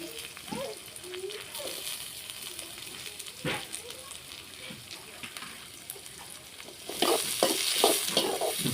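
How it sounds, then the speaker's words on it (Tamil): Onions sauté in a pan for a curry of freshly caught lake fish, with a soft, steady sizzle and scraping stirs. The frying swells louder toward the end, and faint voices are heard in the background. "வெங்காயம் நல்லா வதங்கிச்சு"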